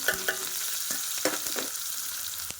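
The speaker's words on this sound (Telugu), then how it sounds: "ఈ టైంలో ఉల్లిపాయ, పచ్చిమిర్చి, కరివేపాకు వేసేసుకుంటున్నాను" Onion, green chillies and curry leaves sizzle steadily in hot oil for a small-fish curry, a dense continuous fry with a few sharp stirring clinks and scrapes scattered through, close and fairly loud, no voices.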